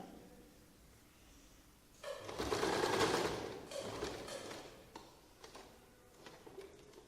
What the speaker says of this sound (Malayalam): നമുക്ക് അറ്റത്ത് കൂടെ ഒന്ന് സ്റ്റിച്ച് ചെയ്ത് കൊടുക്കാം.